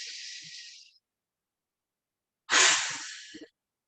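Two breathy exhales during a yoga session, a softer airy breath fading out within the first second, then after a pause a louder, fuller breath out that tapers over about a second.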